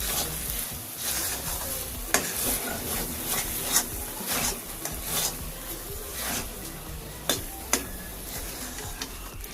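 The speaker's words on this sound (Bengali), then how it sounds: "আপনারা চাইলে কাজু বাদাম কুচিও দিতে পারে আবারও মিশিয়ে নিচ্ছি" Sago laddu mixture with melon seeds stirred in a pan, a steady soft scraping and sizzling broken by occasional sharp knocks of the spoon against the pan, close and without speech.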